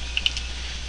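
A few quick, light keystrokes on a computer keyboard while entering shell commands, two soft clicks standing out over a steady low hum, with no voice.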